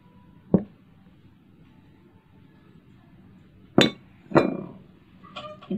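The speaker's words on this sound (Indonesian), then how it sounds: "Kita aduk rata." Chopped cashew nuts being stirred into butter cookie dough in a bowl by hand, giving a few sharp, sparse clinks of a utensil against the bowl with quiet pauses between them.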